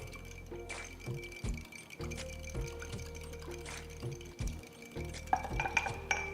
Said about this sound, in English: So, whisk this together.